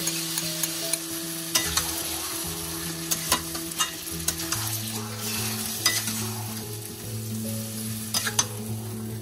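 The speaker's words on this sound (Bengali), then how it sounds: "পেঁয়াজটা একটু ভাজা ভাজা হয়ে এলে ম্যারিনেট করে রাখা চিকেনটা অ্যাড করে দেব" Marinated chicken fries with browned onions in a pan, a steady sizzle under repeated sharp spatula scrapes and knocks, close-up and continuous with no speech.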